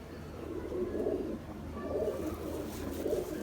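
Soft, low pigeon coos repeat about once a second, a gentle rolling murmur with a faint background hum, from Dubai pigeons.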